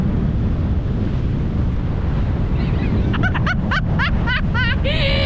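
Strong wind roars steadily across the microphone throughout at the coast near Esperance, Western Australia, with birds chirping in the background toward the end.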